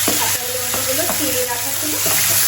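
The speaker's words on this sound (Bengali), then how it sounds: "এবার আমি দিয়ে দেবো পেঁয়াজ কুচিগুলো। আর কাঁচা লঙ্কাগুলো," Chopped onions and green chillies sizzle and fry in a hot pan for a kathal (jackfruit) curry, a steady close crackle with occasional stirring scrapes and no talking.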